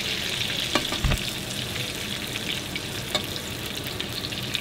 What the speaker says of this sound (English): I'll let you know when we get the sizzling